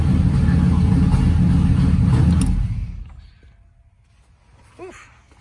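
A Chevy Bison truck engine runs with a loud, steady low rumble for about two and a half seconds, then fades to a quiet idle with faint background noise and a brief chirp near the end.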